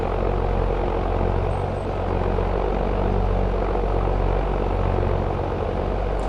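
Loud, droning tractor engine in Farming Simulator 22, a steady low mechanical roar that holds constant throughout without talk.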